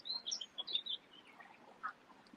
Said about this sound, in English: Sounds lovely though with the birds.